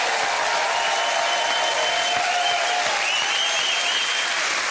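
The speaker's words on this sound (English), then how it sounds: "one more round of applause" Sustained applause from a large audience, steady and loud throughout with dense clapping and no pauses.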